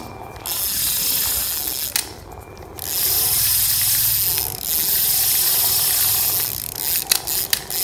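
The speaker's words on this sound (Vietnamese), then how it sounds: "Máy quay nhẹ mượt size 2000" Daiwa size 2000 spinning fishing reel being cranked by hand, a close, continuous ratcheting whir broken by brief pauses and a few clicks near the end, no voices.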